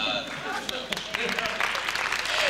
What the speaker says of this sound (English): give a great round of applause to my three MCs